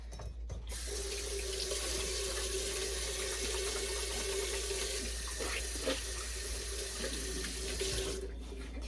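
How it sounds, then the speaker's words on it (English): Running tap water pours into a sink as hands are washed, a steady close rush that begins and ends abruptly, with no speech. "I'm going to wash my hands really fast"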